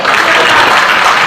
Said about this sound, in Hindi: बहुत बढ़िया, जोरदार ताली दीजिए एक बार।